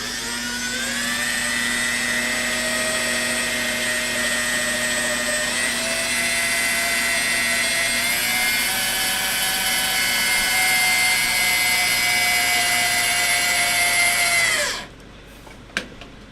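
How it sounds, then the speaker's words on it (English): An electric drill winds wire coils for jump rings, its motor whining steadily and loudly for about fifteen seconds, the pitch dipping slightly partway, then cutting off with a couple of faint clicks afterward. "going a little slower until I get used to this drill"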